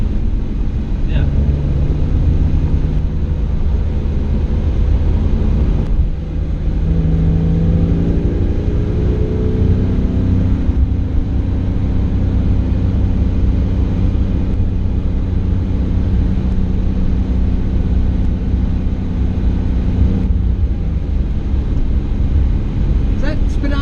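A Porsche 911 Targa on the road: a loud, steady engine drone heard from inside the cabin, with a rising rev sweep partway through as it accelerates, and voices at times over the engine.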